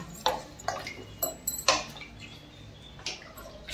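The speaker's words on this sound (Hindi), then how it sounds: "इसका ढक्कन लगा देती हूँ मैं आपको" A lid clinks onto a cooking pot of sambar with water just added, a few sharp metallic taps and clatters spread over a few seconds in a quiet home kitchen.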